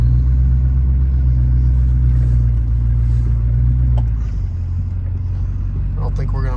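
Duramax diesel engine in a Silverado or Sierra pickup idles loud and close with a heavy steady rumble on a cold day, then the tone drops and settles lower partway through.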